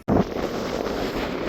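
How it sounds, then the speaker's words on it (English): Loud, continuous wind buffeting the microphone, a roaring rumble with no other sounds. "Sorry about the wind."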